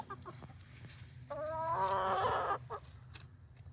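A hen, a quiet, easygoing backyard bird, gives a short run of soft clucks in the middle, over a low, steady background hum.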